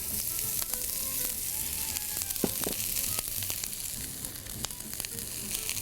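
Vegetables sizzle in hot cooking oil, a continuous loud crackling fry with occasional sharper pops and stirring scrapes.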